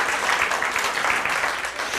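Congregation clapping during a church service talk, a dense, fairly loud patter of many hands that holds steady throughout the short stretch, no voice over it.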